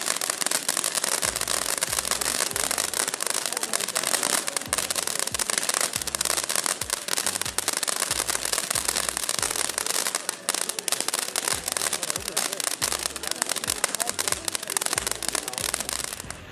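Two Orchid consumer fireworks fire together, giving off a steady, dense crackle and sizzle that lasts throughout, loud and close, with recurring thumping pops beneath it.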